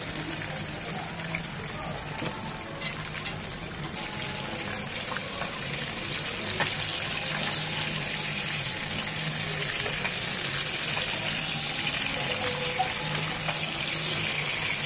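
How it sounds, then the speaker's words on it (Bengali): Puti fish frying in soybean oil in a pan for a fish curry with cauliflower and beans, a steady hissing sizzle that holds at an even level throughout, close and unbroken. "পুঁটি মাছগুলো হালকা করে ভেজে নেওয়ার জন্য দিয়ে দিচ্ছি প্যানে সয়াবিন তেল।"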